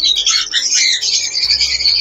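Fischer's lovebirds in an aviary chirp in rapid, overlapping bursts of high, shrill tweets, loud and close, with a constant flock chatter and no talk.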